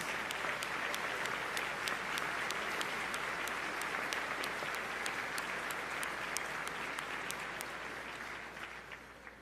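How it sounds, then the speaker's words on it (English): Sustained applause from a large audience at Houston's State of the City address, steady dense clapping for about nine seconds that fades slightly toward the end, with no talk over it. "Let's all give them a round of applause."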